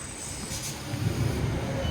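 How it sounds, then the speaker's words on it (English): A train rumbles past nearby at Kearsley, England, low rolling noise building toward the end with a brief high hiss early on. "Here's our choo-choo train."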